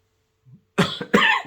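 A man coughs twice, close and loud, the two sharp bursts coming in quick succession after a brief low throat sound.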